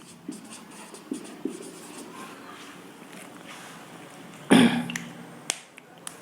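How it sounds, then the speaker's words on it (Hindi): Marker or chalk strokes on a classroom board during a physics lesson, a few light scratchy bursts spread across the stretch with one louder knock near the end, mostly alone with faint room sound. "तो मैं इसको लिख देता हूं"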